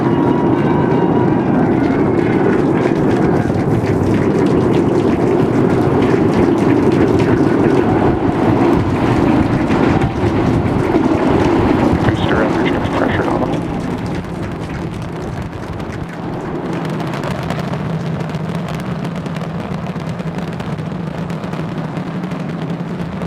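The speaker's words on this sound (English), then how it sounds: "We got liftoff. Vehicle pitching down range." A SpaceX Starship rocket lifting off, its 33 Raptor engines making a loud, continuous broadband roar that stays dense and rumbling throughout and eases slightly toward the end.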